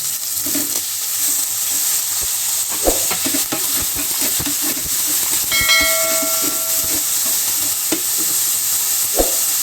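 Bitter gourd tossed into a pan of sautéed onions sizzles and hisses steadily throughout, with occasional stirring clatter and scraping close by; no one speaks.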